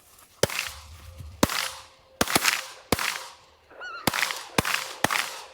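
Shotgun blasts during a duck hunt over decoys in Alberta: about seven sharp, loud reports in quick irregular succession, with ducks quacking faintly between shots.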